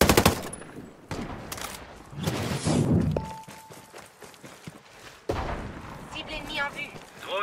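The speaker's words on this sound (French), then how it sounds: "J'entends des tirs ennemis!" Bursts of enemy gunfire in the tactical shooter Ghost Recon, with rapid automatic volleys and sharp single shots in a busy game mix, while a voice talks over parts of the action.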